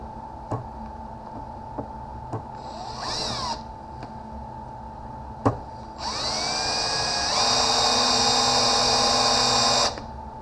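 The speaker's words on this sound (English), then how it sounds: "that's with a high-speed steel drill bit" A high-speed steel bit drills into a hardened chainsaw bar, giving a steady, close, high-pitched whine that rises and holds for several seconds after a few sharp taps and a brief earlier burst.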